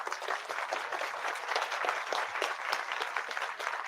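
A keynote audience at a conference breaks into steady, dense applause, many hands clapping together at an even level without letup, filling the room for several seconds.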